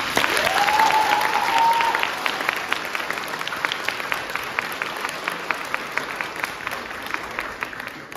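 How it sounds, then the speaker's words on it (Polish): Sustained applause from a conference audience, loud at first and then settling into steady, even clapping. "Wielkie brawa!"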